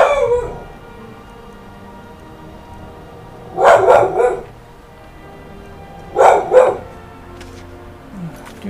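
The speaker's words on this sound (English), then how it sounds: "Do shut up, dog." A dog in the video game Skyrim barks in two short bursts of several loud yaps each, separated by a pause, over quiet game ambience.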